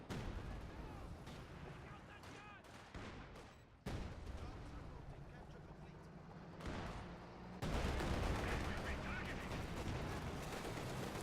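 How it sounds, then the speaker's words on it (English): Gunfire and artillery-style blasts in a Company of Heroes real-time strategy match, with an anti-tank gun firing at a building. The shots come in dense, continuous bursts with no gaps between them, and someone commentates over the whole stretch. "As this gun fires into it"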